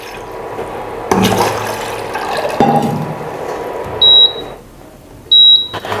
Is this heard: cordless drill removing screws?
no